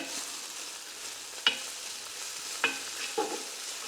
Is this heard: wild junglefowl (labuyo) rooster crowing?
no